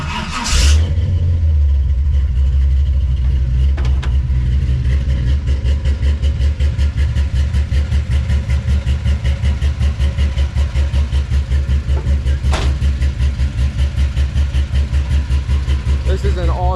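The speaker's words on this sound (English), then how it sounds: "So I know you guys have seen this, or have heard this engine." Chevrolet S10 engine running steadily and loud with a dense, rhythmic low throb, rising into revs and settling back to idle throughout, close by with no talk over it.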